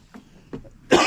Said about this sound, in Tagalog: Hindi talaga lumulubay ang ubo.